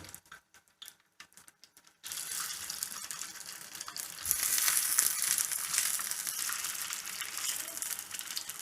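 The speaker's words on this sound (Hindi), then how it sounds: "ये थोड़ा सा ऑयल में इसके ऊपर डाल के और ये 4-5 कबाब बना के आपको दिखा देती हूँ" Reshmi kebabs frying in a little oil: after a couple of seconds of soft clatter, a steady hiss of sizzling begins and grows louder and brighter midway, continuing close and unbroken without speech.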